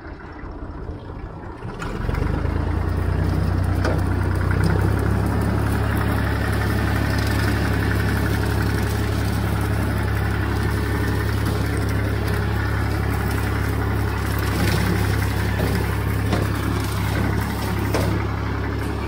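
Massey Ferguson 50 diesel tractor engine running steadily with a deep, loud drone and constant rumble that starts after a brief lower lead-in, with no talk over it.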